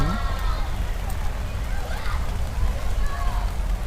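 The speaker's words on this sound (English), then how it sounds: "rain picked up a little bit more, but again, it hasn't really put a damper on too much of the parade today" Steady rain falls on an outdoor fall festival parade, a dense hiss spread evenly across the clip while someone talks throughout.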